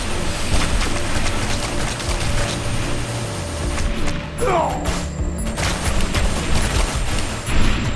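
Gunfire in the shooter game Defiance: continuous loud battle noise with mechanical clatter and bursts of shots, near and busy, with a brief whistling streak midway.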